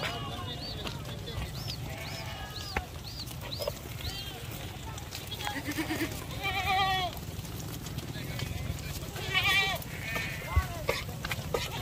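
Goats at a goat farm bleat repeatedly, several overlapping calls near and far, over a steady low hum, with someone talking throughout.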